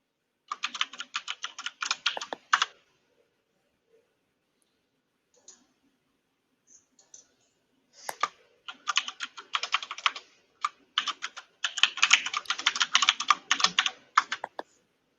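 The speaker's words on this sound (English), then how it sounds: "Is my keyboard really loud on the mic?" Computer keyboard typing in close, fast bursts of clicks, pausing for a few seconds midway before resuming in longer, denser runs, with no talking.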